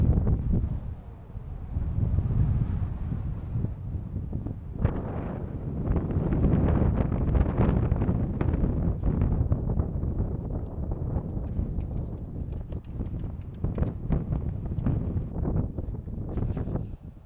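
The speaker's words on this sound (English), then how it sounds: "it is bloody windy" Strong wind at a lookout in Mount Gambier buffeting the microphone in heavy, continuous gusts with a low roar, no voices.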